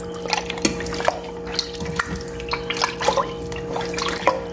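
Tap water running while raw meat for kare-kare is washed in a sink, a continuous close splash and trickle with scattered drips and handling sounds, no talking.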